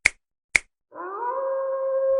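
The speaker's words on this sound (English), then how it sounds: "That wolf howled twice exactly the same." Two sharp finger snaps ring out close and dry, then a wolf howl sound effect rises and holds as a smooth, sustained wail for over a second on a Halloween-themed comedy podcast.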